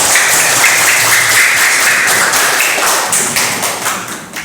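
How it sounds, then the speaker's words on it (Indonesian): Loud, dense applause from a class of students clapping for a classmate. It rings out close and sustained, then fades slightly toward the end. "Tepuk tangan untuk Syukur."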